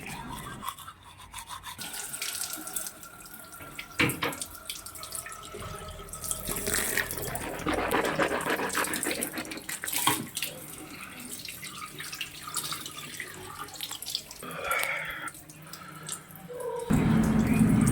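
Kitchen tap running water at a sink during face washing after toothbrushing, a continuous close splash with rubbing and dripping that shifts in intensity, and a louder gush near the end.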